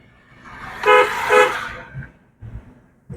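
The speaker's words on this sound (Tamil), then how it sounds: "ஹாரன்" A loud car horn honks twice in quick succession, close by, followed by low traffic rumble and a passing vehicle.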